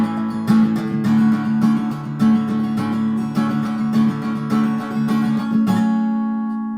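Acoustic guitar strummed in a steady all down-up pattern, as played for a song, with repeated chords ringing clearly and closely, then a final chord left to sustain and fade.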